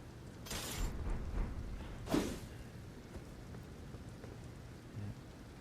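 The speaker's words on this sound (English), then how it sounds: "It's raining." Rain falls steadily in the Elden Ring video game, a constant hiss broken by a couple of sharp thunder cracks, with no voices.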